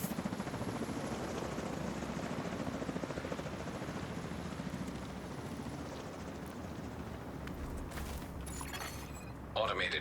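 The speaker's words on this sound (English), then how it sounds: "Brenner, Recon 4 has a visual on an unknown helo headed east over the Potomac" A video game helicopter flies over a river with a steady whirring rotor drone, moderately loud and continuous, while a voice talks over it.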